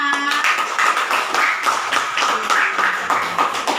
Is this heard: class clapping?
yes